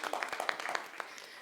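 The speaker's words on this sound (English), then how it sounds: "I think that deserves a round of applause." A small audience gives a brief round of applause at a social housing and youth empowerment information session, with scattered, fairly quiet claps over roughly a second and a half.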